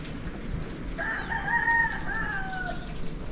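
Steady rain falls as a constant broadband hiss throughout, while a rooster crows loudly and clearly over it midway through.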